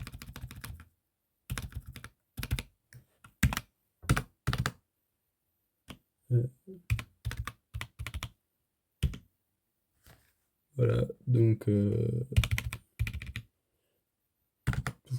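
Bursts of typing on a mechanical keyboard with deep, low thock-sounding switches, near and crisp, separated by pauses and a person talking in French.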